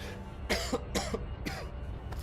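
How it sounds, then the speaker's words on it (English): Three harsh coughs in quick succession, close and fairly loud, followed by a softer fourth cough trailing off. "We're gonna cough 1 second."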